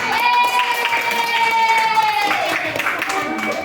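Audience in a training classroom session clapping together, a steady burst of applause with scattered voices and cheers mixed in, fairly loud and sustained before tapering slightly.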